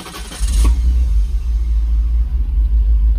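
Mercedes SL500 V8 starting and running roughly up close, with a deep uneven rumble and faint wavering idle that never settles smoothly.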